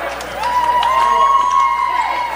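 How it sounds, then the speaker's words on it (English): A vocal basketball crowd at a men's college game cheers and shouts in an arena, a loud sustained roar with one voice holding a long high yell. "We've had a very vocal crowd today."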